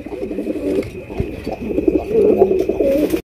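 Several Gola pigeons coo in low, throaty, repeated rolls close by, overlapping one another steadily until a brief break near the end.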